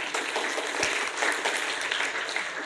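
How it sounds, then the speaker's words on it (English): Audience applause at a public policy forum, a full sustained round of clapping from a crowd, even and continuous throughout. "Please give round of applause to Sam."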